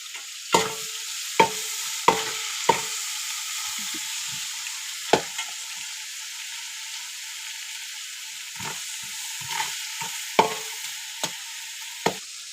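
Tomatoes sizzle steadily in a pan while a spoon scrapes and stirs it in sharp, irregular clacks, close and clear with no voices.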